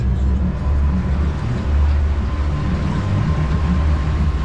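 Twin 200 outboard engines on a 2024 2500 Ultracab boat pushed to higher throttle, a loud, close, steady low rumble with a continuous droning roar.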